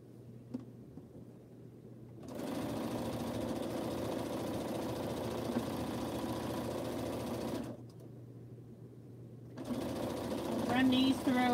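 A domestic sewing machine stitching crumb quilt blocks runs in two long steady whirring stretches, close and fairly loud, separated by a quiet pause with a low hum; a brief high squeak comes near the end.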